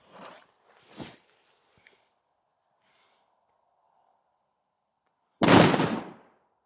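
Powerful Bulldog firecracker, a 2-gram banger, goes off with a single loud close blast that rings out briefly, preceded by a few faint footsteps and rustles in quiet outdoor surroundings.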